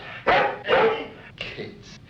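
A dog barks in a science-fiction TV drama scene: two loud, close barks followed by a couple of softer, shorter yips, with faint background sound between them.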